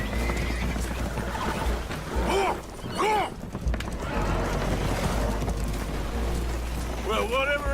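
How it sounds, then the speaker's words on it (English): Spooked horses neighing and whinnying on a boat taking on water in the video game Red Dead Redemption 2, several shrill calls over a steady rumble of water and hull noise. "Horses are spooked"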